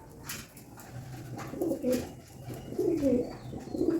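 A pigeon coos softly several times in low, rolling phrases, close by, with faint background noise between calls.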